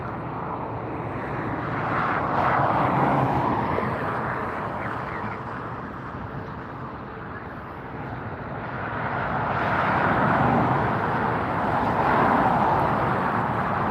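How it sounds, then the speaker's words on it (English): A Viva Airlines jet takes off at LAX airport, a broad, steady jet roar that swells, eases, then builds again as the aircraft climbs, heard from nearby for the whole stretch with no talking. "Whoops, somebody's taking off. That's a Viva Airlines jet."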